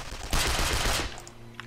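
MP40 submachine gun fired in the video game Sniper: Art of Victory: a single loud burst of rapid automatic shots lasting under a second, then a quieter fading tail.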